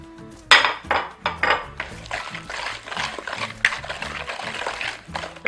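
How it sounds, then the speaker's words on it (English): A spoon clatters and scrapes against a bowl in uneven strokes while mashed banana is mixed with sugar and butter, with soft wet squelches between the knocks. "we're going to pour the banana into the sugar and butter and mix it all together"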